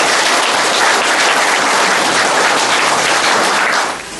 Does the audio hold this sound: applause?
yes